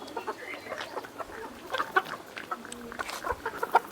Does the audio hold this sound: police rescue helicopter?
no